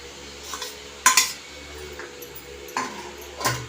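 Taro root and potato go into a pan and get stirred, giving a few clattering knocks of spoon against metal over a low kitchen background hum, moderately close, with no talking.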